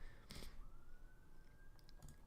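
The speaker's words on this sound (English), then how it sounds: "Hopefully you guys don't hear those sirens." Emergency vehicle sirens drift in from a nearby highway, a faint thin wail holding a steady pitch across the background while a couple of sharp clicks pop up near the start and end.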